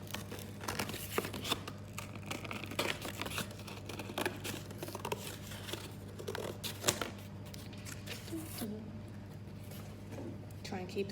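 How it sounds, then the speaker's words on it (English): Scissors snip and crinkle through cardboard while cutting out pieces for a poppy wreath, close and quiet, in irregular bursts of cutting and paper rustling, with a voice talking at times. "I'm just going to cut it all out."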